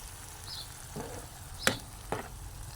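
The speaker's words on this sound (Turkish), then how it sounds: "Domatesi çektim. E, sarımsakla birlikte tavama onları ilave ediyorum" Tomato sauce with garlic cooking in a frying pan gives a low, soft sizzle, broken by a few sharp utensil clinks against the pan.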